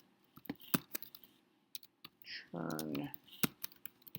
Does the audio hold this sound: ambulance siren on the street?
no